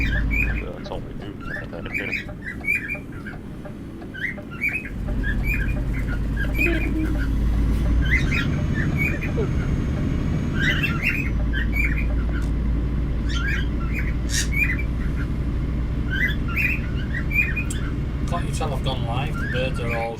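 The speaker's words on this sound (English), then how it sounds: "birds are all shouting" Birds squawking and chirping outside, repeated sharp calls scattered across the clip, moderately close, over a low steady rumble and under someone talking.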